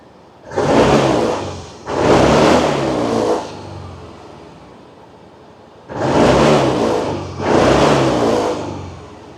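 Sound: Yamaha Grand Filano Hybrid scooter engine revving with throttle twists

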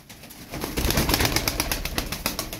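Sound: tumbler pigeons for sale

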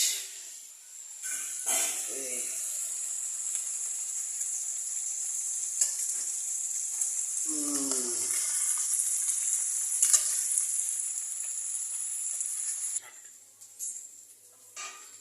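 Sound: amudi fish frying in oil

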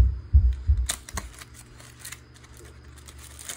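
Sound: unboxing a motion sensor light, opening the box

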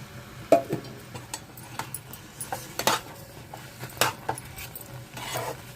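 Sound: stirring ghee into rava kesari in a pan

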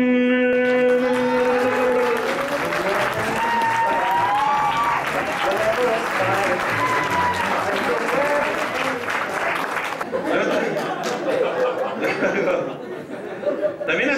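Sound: audience applause

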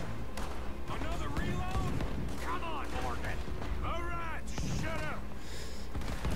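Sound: gunshots in a video game

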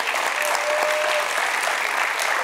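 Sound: audience applause for the band

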